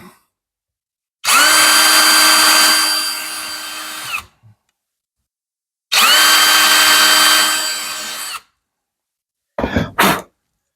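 A power drill drives screws into wood to mount a solar power system fuse, two loud, steady whirring runs of about three seconds each with a short pause between, ending in a brief clatter.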